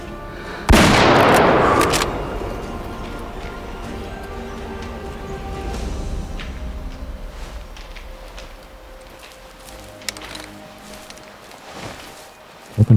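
A rifle shot at an elk in the hunting video game Way of the Hunter bursts out loud and close, followed by a long rolling echo that fades slowly into quiet outdoor ambience, with a small click toward the end.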